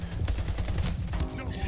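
Rapid automatic gunfire in the arena shooter Splitgate Arena Warfare, a fast, even stream of shots that runs without a break, fairly close and loud, with a brief ringing tone near the end.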